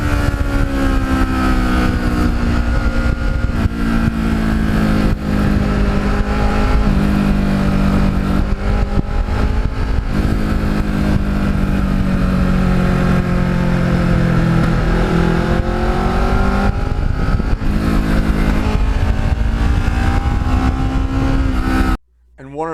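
A Kawasaki Ninja motorcycle runs steadily along twisty roads, its engine droning loud and close with shifting pitch as it accelerates and eases, continuous for the whole stretch before cutting off abruptly at the end.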